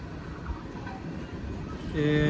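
Tezgam Express train in Pakistan rolling past a stop without halting, a steady rumbling roar of wheels and carriages that swells near the end with tonal, horn-like notes.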